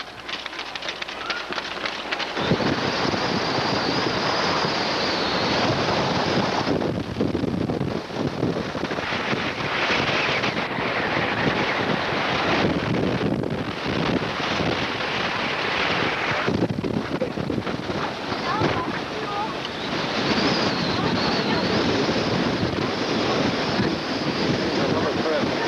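Strong wind buffets the microphone outdoors by the sea near the coast, a loud continuous roar with gusting swells and no voices.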